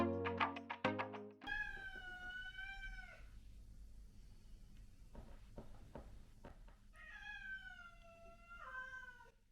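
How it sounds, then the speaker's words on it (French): A hungry house cat meows repeatedly and close by, with long wavering cries separated by quiet pauses and soft background knocks, after an opening burst of sharp, tonal clucking sounds. "Dis miaou si t'es un chat malheureux."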